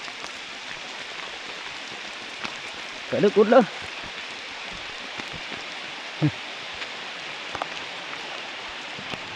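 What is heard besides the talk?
heavy rain pouring down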